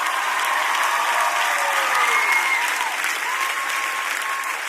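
A church congregation claps and cheers loudly and steadily throughout, dense applause with crowd voices and whoops rising above it.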